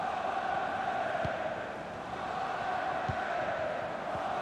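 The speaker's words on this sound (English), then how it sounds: "Yannick Gerhardt being egged on by the crowd." A stadium crowd in FIFA 23 during a Bundesliga match between VfL Wolfsburg and TSG Hoffenheim keeps up a steady, mid-level murmur and chant, with a few soft thumps rising briefly above the din.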